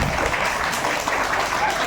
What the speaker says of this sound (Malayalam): നമ്മൾ ഒരു വലിയ കയ്യടി ഈ ഡിപ്പാർട്ട്മെന്റിന് കൊടുക്കേണ്ട